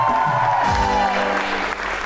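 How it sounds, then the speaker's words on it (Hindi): Studio audience at a talk show applauds the arriving guest. Broad, steady clapping swells in after a falling musical sting and continues under a lingering tonal music bed. "फिर आज आप हमारे आए हुए मेहमान के लिए तालियां बजाएं।"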